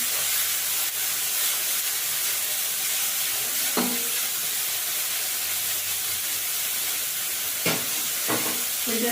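Peeled shrimp sizzling in hot oil in a home kitchen, a steady soft frying hiss with a few brief louder spatters and stirring clinks, no talking.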